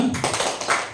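Several quick hand claps in a short rhythmic burst from a group of teachers at a training session, sharp and close, with no talking.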